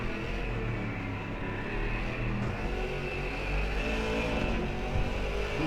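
Race car engine droning steadily at Hungaroring during a night race in a video game, a constant loud motor tone with slight pitch wavers and no voices.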